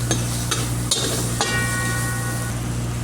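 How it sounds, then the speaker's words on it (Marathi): Spinach filling with chili flakes being sautéed in a wok, a steady close sizzle broken by a few sharp scrapes and stirring clicks, with no one talking. "त्यानंतर थोडी चिली फ्लेक्स घालायची आहे. हे व्यवस्थित परतून घ्यायचं आहे."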